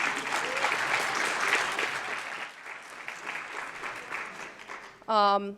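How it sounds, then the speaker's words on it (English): A full-house audience at a Cornell Q&A event applauds loudly and steadily, the dense clapping slowly fading, followed by a short tonal sound at the very end. "give yourself a round of applause for that"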